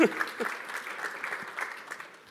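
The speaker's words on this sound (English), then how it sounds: "Yes, you can clap for this." Conference audience applauding briefly during a tech session, a short burst of clapping that fades, with a voice at the start.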